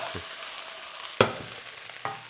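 Shishito peppers stir-fry in two spoonfuls of cooking oil with a quiet, faint sizzle, broken by a few sharp clacks of a utensil against the pan.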